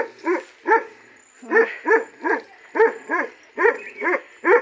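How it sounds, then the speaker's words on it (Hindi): A dog in a mountain village barks repeatedly, about eleven sharp barks at a quick, fairly even pace, close by and loud against a quiet background. "मुझे देख के भौंकने लग गया कि कौन आया होगा।"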